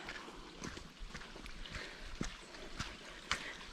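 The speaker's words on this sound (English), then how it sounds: "You can hear the water running, that's all down to the heavy rain we had yesterday." Faint, steady trickle of water runs through an overgrown stream in a country park nature reserve after heavy rain, heard from a short distance, broken by scattered soft knocks and rustles nearby.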